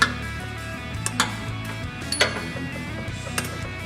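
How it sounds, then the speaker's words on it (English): An angled ratchet tightens bolts while a transfer case is installed under a Mountaineer or Explorer, giving quick close ticking clicks in short bursts over a faint background hum. "can kind of squeeze in between the cross member with the angle ratchet with the handle that you can angle certainly helps."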